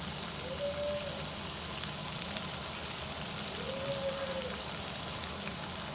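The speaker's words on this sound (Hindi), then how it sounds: "अब हम इसमें थोड़ा सा पानी डाल देते हैं।" Water is added to a hot pan of frying potatoes and bell pepper, leaving a steady, rain-like hiss of sizzling and steaming. Two faint whistling tones rise briefly above it, and no one speaks.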